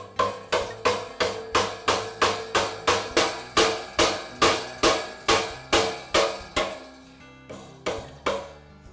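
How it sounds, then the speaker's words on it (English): A rubber mallet taps a Campbell Hausfield air compressor flywheel onto its crankshaft, landing a steady run of about twenty sharp, evenly spaced blows, then pausing and adding two or three more. The hits are close and loud, with no talking. "And now I'll use a rubber mallet to tap the flywheel into place."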